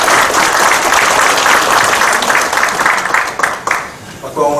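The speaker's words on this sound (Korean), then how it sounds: "힘찬 박수 모시겠습니다." Vigorous audience applause at a Democratic Party launch ceremony and farmers' and fishers' rally, with dense continuous clapping that tapers off near the end as a voice begins.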